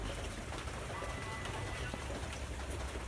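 Steady rain falls outdoors in Pak Chong, Thailand, while raw pork larb wrapped in banana leaves is prepared for grilling; a constant soft hiss continues throughout with faint scattered bird calls.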